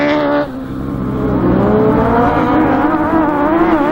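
Autograss race cars lap a dirt track at St Neots during the finals. Engines roar loud and steady, and their pitch climbs as the cars power along, with no break in the noise.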